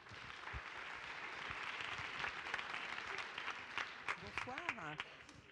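An audience at a women's parliament event claps for a speaker, a steady moderate wash of applause that continues under a voice starting to talk near the end.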